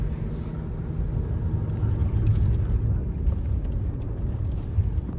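A car climbs a steep, dangerous mountain ghat road on the way to Raigad, its engine a steady low rumble with road and wind noise that holds even throughout.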